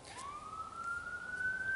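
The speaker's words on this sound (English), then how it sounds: "Excuse the ambulance there" An ambulance siren passing outside, a faint rising wail that climbs and holds steady across the brief moment, distant and under low background noise.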